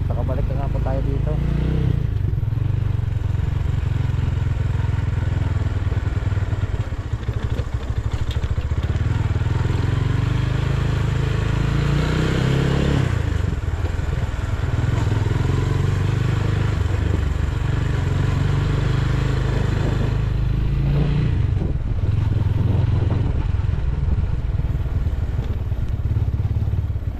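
A motorcycle engine rumbles steadily up close, with a low, continuous throb and occasional revving swells and rattles throughout.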